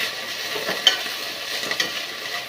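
Chopped greens sizzle steadily in a pan while a spoon stirs and scrapes at intervals, with a few sharper clinks standing out close by.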